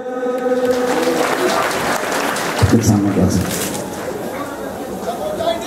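Applause at a Biswa Rangamahal stage event for the day's best dancer, a dense steady wash of clapping across the whole stretch, with a brief burst of voices midway.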